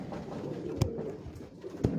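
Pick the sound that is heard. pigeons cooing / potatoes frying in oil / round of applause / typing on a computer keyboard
pigeons cooing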